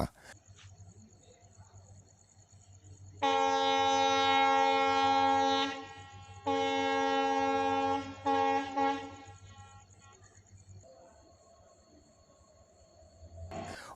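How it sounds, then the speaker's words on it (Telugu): A track-recording train at Kanigiri railway station, on a track checking run, sounds two long, loud horn blasts over a low rolling rumble of wheels on track, which fades as the train moves off. "రైలు రివర్స్లో కనిగిరికి వచ్చి కనిగిరి నుండి వేగంగా మల్లవరం వైపుగా వెళ్తుందట"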